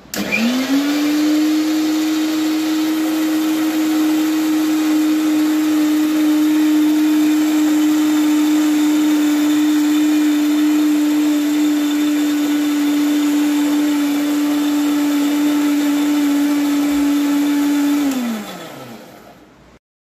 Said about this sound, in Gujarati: હવે મિક્સરને ઓન કરી દઈશું ઓન કરશું